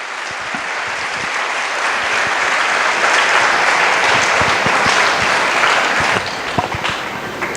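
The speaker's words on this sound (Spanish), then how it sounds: "Dale un fuerte aplauso al Señor en esta mañana" Church congregation applauding the Lord during a Spanish-language evangelistic service, a steady, dense wash of clapping from many hands that swells slightly and holds for several seconds before easing off near the end.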